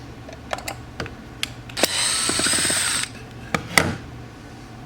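Two screws are backed out from the inside of a dirt bin lid with a small driver, giving scattered clicks and ratcheting ticks around a whirring burst of about a second.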